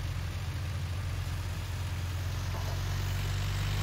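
Tractor engine in Farming Simulator 19 droning steadily at low pitch while hauling a loaded tank, a constant even hum with no talk.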